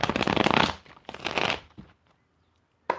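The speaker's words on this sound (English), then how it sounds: "One more shuffle." Tarot cards riffle-shuffled close up in two quick bursts of rapid fluttering clicks, followed by a soft tap and a brief final snap after a pause.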